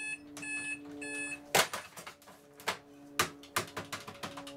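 An alarm in an office video game rings in short repeated electronic beeps, followed by a series of loud sharp impacts and clatters.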